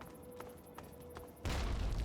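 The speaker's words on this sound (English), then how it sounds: "Did I hurt you with that grenade?" A grenade goes off in Fallout 3 as one sudden, loud, broadband blast that cuts in after quieter gunfire-like clicks and then sustains a rough rumble.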